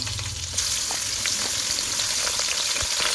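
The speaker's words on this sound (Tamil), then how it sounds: "இப்போ நம்ம கழுவி வச்சுக்கக்கூடிய கறியை இதில் சேர்த்துடலாம்" Beef and bones dropped into onions frying in oil in a pan set a loud, steady sizzle going that swells after a brief quieter start, with faint scraping stirs and no talk.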